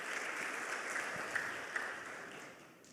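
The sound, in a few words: church congregation applauding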